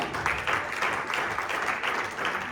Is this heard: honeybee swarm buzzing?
no